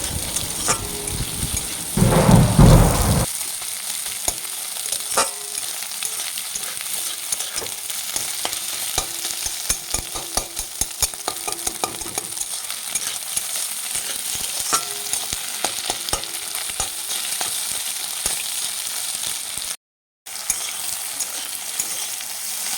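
Chowmein noodles stir-fry in a hot pan with a continuous crackling sizzle, punctuated by frequent scraping and clattering stirs, with a brief louder burst early on.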